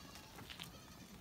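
A male goat, a buck kept with Dorper sheep on a small farm, gives a brief bleat amid faint, noisy outdoor farmyard background.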